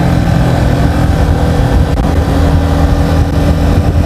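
A Yamaha XSR 155 motorcycle engine drones steadily and loudly throughout a test ride, heard up close with heavy wind rumble and no pauses.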